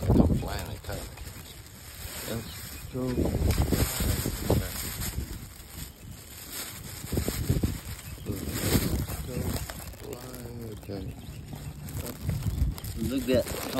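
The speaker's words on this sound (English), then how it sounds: "It's really windy" Wind gusts buffet the microphone in rumbling, uneven bursts, loud and close, while a person talks intermittently over the blustery noise.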